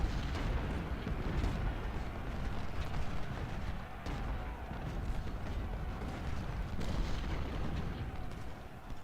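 Dense, continuous rumble of canister artillery fire and battle noise in the Civil War strategy game Ultimate General: Civil War, booms blending into a steady roar with no clear gaps.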